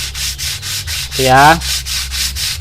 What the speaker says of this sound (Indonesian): Sambil ketek-ketek-ketekan kita amplas gini.